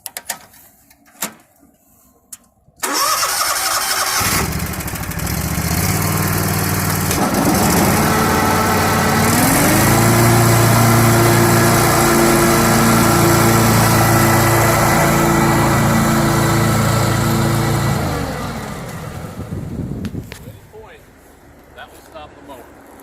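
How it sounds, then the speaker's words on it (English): A commercial lawn mower engine starts and runs loud and close, rising to a steady high-revving drone with the blades engaged, then winds down and cuts off near the end. "That will engage the mower."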